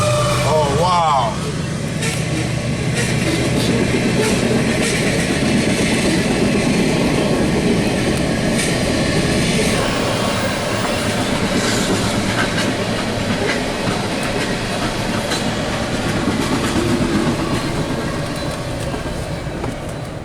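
A loud CSX freight train with a mid-train distributed power locomotive, heritage unit 1776, rolls past close by in North East, Pennsylvania: a continuous heavy rumble with rattling wheel clatter and a brief tonal blare near the start.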